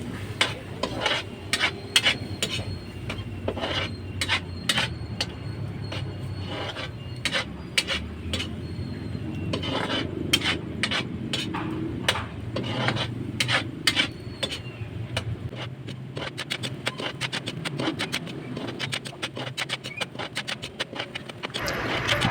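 Beef skin adobo is stirred steadily in a pan as it dries, a utensil scraping and rubbing against the bottom in quick, repeated strokes with a faint sizzle beneath, close and moderately loud.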